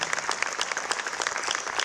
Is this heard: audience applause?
yes